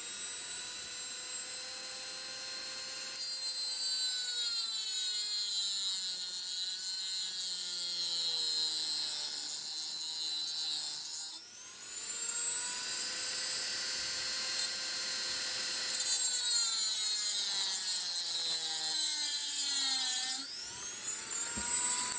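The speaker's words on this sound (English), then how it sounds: "Since I don't need them and they're just in the way, I remove them with a cut-off disc." An abrasive cut-off disc grinds protrusions off the end of a homemade link and pin coupler, a steady high whining screech with shifting pitch, loud and close, briefly dipping near the middle and again toward the end, with no talking.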